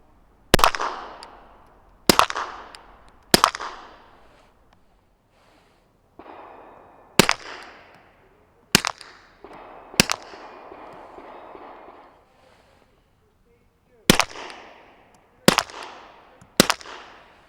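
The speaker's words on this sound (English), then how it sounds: "should probably show you some shooting with both subs and supers" A Dead Air Mojave 9 silencer muffles a string of subsonic and supersonic gunshots. Ten sharp, close reports come at irregular intervals, some in quick pairs, each with a short fading tail and quiet gaps between.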